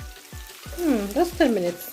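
Cow foot meat frying in oil in a pot for Jamaican cow foot and beans, a steady close sizzle running under a woman's speech.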